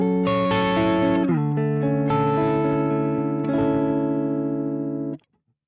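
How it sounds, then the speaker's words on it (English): Electric guitar through the Archetype: Plini X chorus with depth turned low, a subtle shimmer on sustained chords that change a few times before cutting off sharply, clean and alone. "With the depth towards the left, it will be a subtle, less intrusive chorus."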